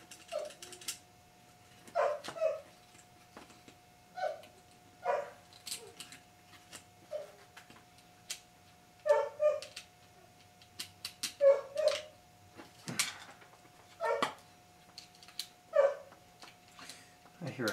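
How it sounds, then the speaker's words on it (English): A dog barks and whimpers in short, repeated yelps and whines spread across the stretch, moderately close, with a steady faint tone running underneath. "I hear a dog."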